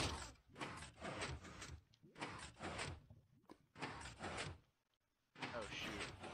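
A sand drawbridge closes in a video game, marked by four separate bursts of grinding, rushing mechanical noise, each lasting about a second, with short quiet gaps between them.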